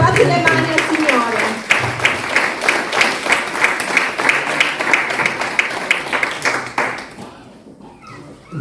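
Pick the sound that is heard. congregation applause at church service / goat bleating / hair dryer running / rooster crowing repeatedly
congregation applause at church service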